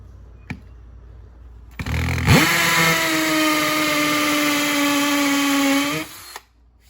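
A power drill bores a hole in wood during a garage wood-storage build, whining steadily for about four seconds with a brief pitch rise at the start, close and loud, then stopping abruptly.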